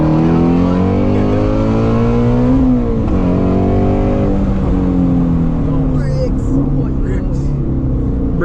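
A Shelby GT350 Mustang engine roars and revs hard while driving through a corner, loud and close with rising and falling pitch, a brief tire squeal near the end, and voices talking over it.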